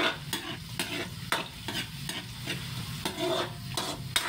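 Onions sauté in a pan, crackling and sizzling steadily while a utensil scrapes and stirs in a regular rhythm, clear and close with no voices.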